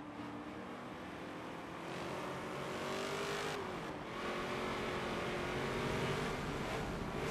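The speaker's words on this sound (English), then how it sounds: "Let's listen to this engine as we move through turn 8." A Chevrolet Camaro SS race car with a 455 horsepower engine drones steadily through a big sweeping corner in Forza Motorsport, the engine note shifting in pitch as it holds speed and then builds, with faint tire noise.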